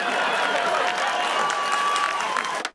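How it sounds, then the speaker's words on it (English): Comedy club audience bursting into applause and cheering after a stand-up act, a dense crowd roar with clapping that cuts off abruptly near the end. "Big applause."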